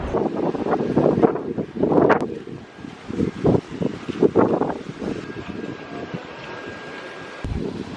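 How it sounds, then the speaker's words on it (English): Gusty wind buffeting and rustling at an Aruba beach in uneven bursts, rising and falling loudly, with no one speaking. "It is windy. It's windy here."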